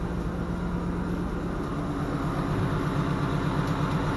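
A car engine idles after an oil change, a steady low hum with a faint, regular tapping noise running through it, close and continuous, with no talking.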